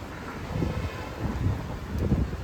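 Wind blowing outdoors in Mumbai, a low rumbling gusty buffeting across the microphone, steady and moderately loud with no voices.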